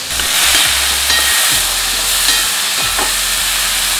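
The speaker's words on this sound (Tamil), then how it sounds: "வெங்காயத்தை வந்து பாதி இதில் சேர்த்துக்கலாம் மீன் குழம்புக்கு." Chopped onions sizzle and fry in hot oil in a pan for a fish curry, with stirring scrapes at intervals over a constant close hiss.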